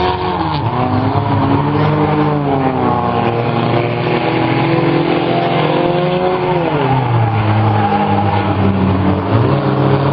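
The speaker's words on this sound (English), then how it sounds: "Up front, it's Race Metdepenningen and Ben Blair with that race lead" Several race cars roaring around a figure 8 train race at Flat Rock Speedway, engines droning loud and continuous with rising and falling pitch as they rev and pass.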